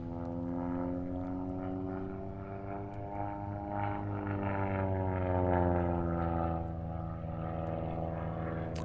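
A propeller aerobatic plane flies a four-point roll during a national aerobatics championship, its engine droning steadily with a slowly shifting pitch, moderately distant and unbroken.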